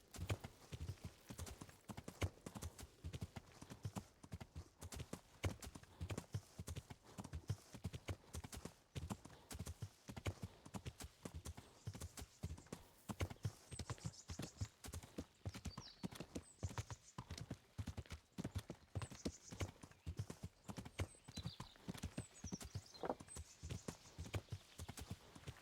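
Horse hooves gallop in steady, rapid clip-clop rhythm throughout a medieval role-playing game, Kingdom Come: Deliverance, with occasional faint whinnies and no talking.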